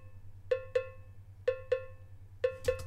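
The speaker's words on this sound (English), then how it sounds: "Now I'm layering on top of that two cowbells just to get a sound I want" Two layered cowbells in a reggae beat hit in pairs, a quick double stroke repeating about once a second over a low steady bass pulse, bright and close.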